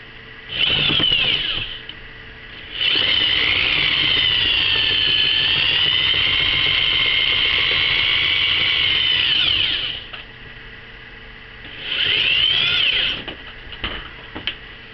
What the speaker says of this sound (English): My drill does not smell like it's enjoying this.